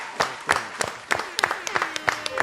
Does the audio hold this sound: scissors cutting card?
no